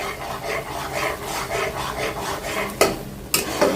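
Coconut and cashew paste with turmeric being stirred and sautéed in a pan: close, rhythmic scraping strokes of a spatula over a soft sizzle, with a couple of sharper knocks near the end.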